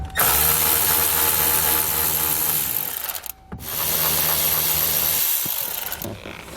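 A cordless power driver with a Torx bit spins out T15 screws beneath the dash panel of a 2018 Chevrolet, two loud close whirring runs separated by a brief pause.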